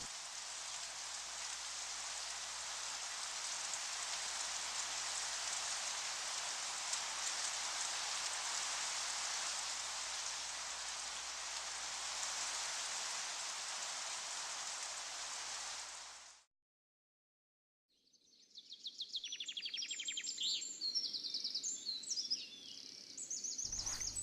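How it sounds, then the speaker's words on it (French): Steady broadband hiss of rain falling on a bivouac shelter outdoors, constant and close for about sixteen seconds, then it stops abruptly; after a brief silence, faint bird chirps and light rustling follow. "il commence à pleuvoir"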